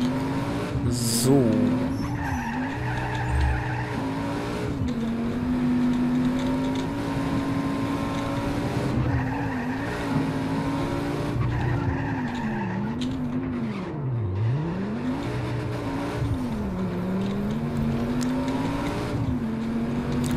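Car driving in Just Cause 3 with a steady engine drone and repeated wavering tyre squeals from skids, moderately loud and continuous throughout, with game sounds layered in.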